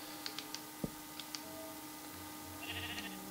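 Minecraft sheep bleating in a video game: a few short soft bleats near the end over a quiet background, preceded by light clicks.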